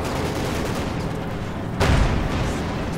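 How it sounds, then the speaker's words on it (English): The Schwerer Gustav railroad gun fires in the Company of Heroes 2 strategy game, a single heavy boom bursting out of a steady wash of battle noise and then fading back into it. "The Schwerer Gustav."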